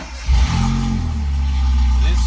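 1982 Fiat X1/9 engine with a brand-new, loud exhaust revving up from idle, a close heavy rumble with a quick throttle blip, voices faintly mixed in.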